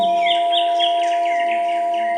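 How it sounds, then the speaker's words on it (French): Birds chirping and twittering in quick repeated notes over a steady droning tone and soft background music, continuous and fairly loud throughout. "Vous entendez le chant des oiseaux."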